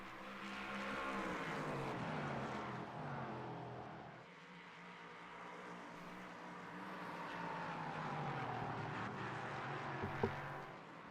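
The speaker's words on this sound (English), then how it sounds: "I think that's just the cars scraping on the ground that I'm hearing." Race cars in a racing video game, LMP3 prototypes, roaring steadily with engine pitch rising and falling, and a brief sharp scrape of a car bottoming out near the end.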